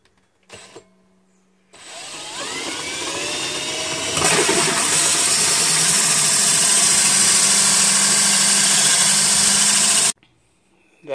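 A hole saw bores through the wall of a vintage Santa Fe travel trailer for a stereo speaker, a loud steady whirring grind that starts after a brief click, builds and then holds for about eight seconds before stopping abruptly.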